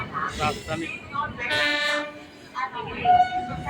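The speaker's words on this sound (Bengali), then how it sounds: "পাঁচ নম্বর প্ল্যাটফর্ম দিয়ে বেরিয়ে যাচ্ছে শিয়ালদাহ রাজধানী এক্সপ্রেস" A train horn toots briefly as the Sealdah Rajdhani Express moves off platform five, over rumbling rail noise and nearby chatter on a busy platform.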